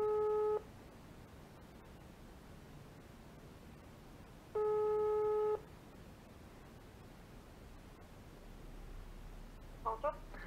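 Telephone call tone heard while a call to the State Revenue Service director-general's line in Latvia is forwarded to an expert: two long steady beeps about four seconds apart over faint line hiss, with brief chirps near the end.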